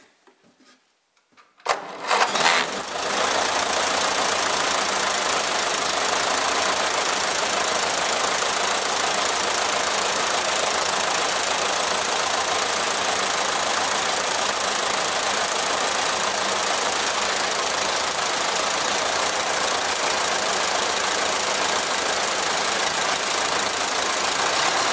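A Ferguson TE20 tractor engine cranks and fires, then settles into a steady, loud, rough idle that keeps going without a break, with no talking.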